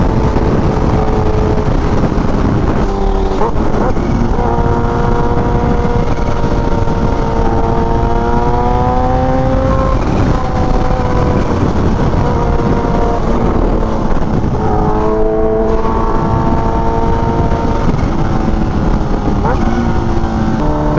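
A supercharged Kawasaki Ninja H2 motorcycle ridden at full power in cold weather on a bumpy road produces a loud, continuous engine roar whose pitch rises and falls, buried in heavy wind rush throughout.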